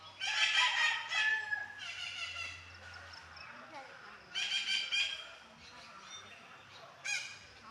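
A flock of parrots calls noisily in harsh, squawking bursts that come and go in clusters, fairly close, with quieter stretches between.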